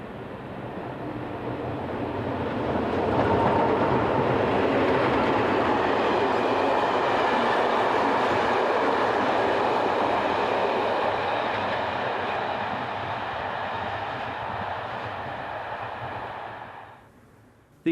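A train runs along a railway line near Karlovy Vary, a steady rumbling roar with faint rhythmic wheel clatter that swells in over the first few seconds, holds loud and close, then fades away near the end.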